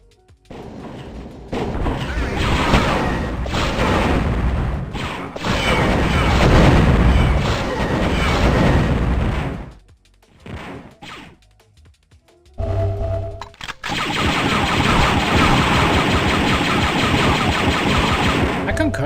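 Concussion rifle blasts in the Dark Forces Remaster, heavy booming shots and explosions in dense loud bursts, a short lull in the middle before the firing resumes.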